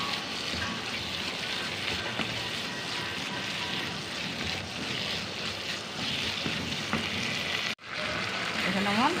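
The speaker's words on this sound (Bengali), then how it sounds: "আমি ভালো করে মশলাটাকে কষিয়ে নেবো" Spice mix with cumin powder sautéing in a pan for a beef-style curry with taro stems, a steady broadband sizzle running throughout with faint scraping, briefly cutting out near the end before resuming.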